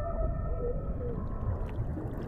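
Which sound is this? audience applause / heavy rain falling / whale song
whale song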